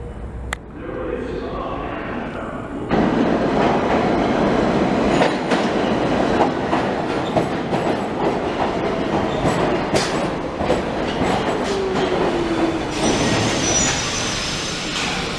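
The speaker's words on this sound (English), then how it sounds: "we board a northbound local train at Nevins" A northbound local subway train runs through Nevins St station, with loud steady rumbling and rattling wheels on track after a short quieter start, the noise staying close and continuous.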